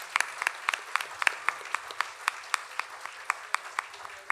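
Sparse applause from an audience after a Bharatanatyam arangetram dance performance, a handful of distinct, fairly quiet claps spaced irregularly over a soft background hum.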